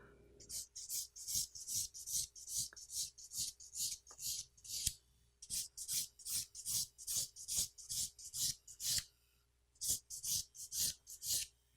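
A nail file rasps against a fingernail around the cuticle in quick, regular back-and-forth strokes, a close, dry scratching rhythm with one brief pause midway.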